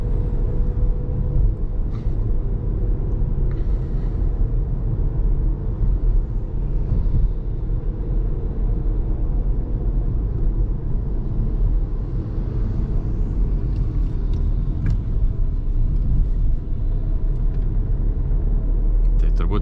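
A driving-school car's engine drones and labours in fourth gear while climbing after a small hill, a steady low rumble running throughout as someone talks over it.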